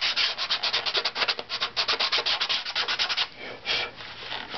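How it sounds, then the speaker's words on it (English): Sandpaper worked by hand across a violin-family instrument's top plate, making rapid rhythmic rasping strokes up close, then a few slower, longer rubs near the end. "let's get back to our sandpaper"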